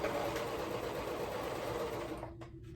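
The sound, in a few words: sewing machine stitching fabric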